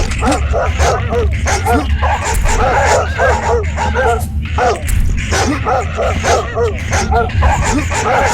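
Dog barking and yipping inside a zombie video game, repeated short barks running throughout over a steady game backdrop, with someone talking over it.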